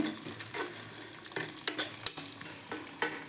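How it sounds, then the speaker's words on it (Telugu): Potato and brinjal frying together in a pan for a curry, soft sizzling under repeated scrapes and clinks of a spatula stirring against the metal, close and without talk. "ఇప్పుడు పొటాటో బ్రింజాలు రెండు కలిసి వేయించుకున్నాము"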